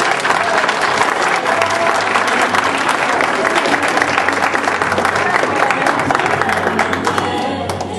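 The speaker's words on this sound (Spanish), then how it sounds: "Un voto de aplauso para ella." A crowd applauds steadily at a 70th birthday ceremony and party, thick continuous clapping with some crowd noise, holding evenly before easing slightly at the end.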